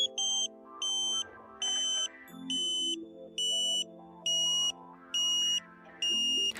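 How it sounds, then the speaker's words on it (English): A satellite finder meter on a Ka-Sat dish mounted on a mid pole emits steady, evenly spaced high beeps, about eight short pulses, over a quieter background of lower sustained tones. "When you hear the tone drop, change direction."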